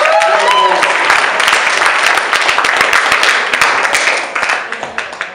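Comedy club audience at Yuk Yuks Ajax cheering and applauding in a steady dense wash of clapping and whoops, thinning into scattered claps toward the end.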